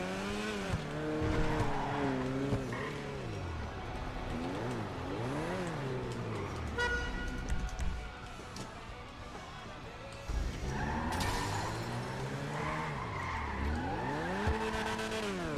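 A green police car driving with tires squealing and skidding, loud and continuous, with rising and falling wailing tones sweeping over the engine noise throughout.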